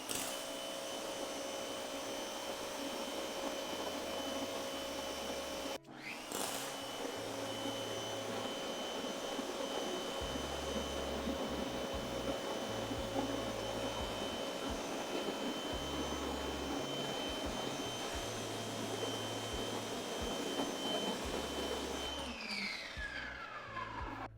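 An Active 2.0 pressure washer runs with its stock nozzle, a steady, fairly faint mechanical whine and drone that holds for about twenty seconds, with a brief dip near the start and no talking.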